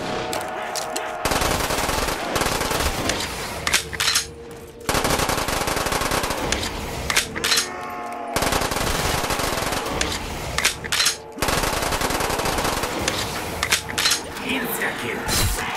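Machine gun fire in Call of Duty BO3 custom zombies, long sustained automatic bursts broken by brief pauses, loud and close, with occasional clinks and cracks between volleys.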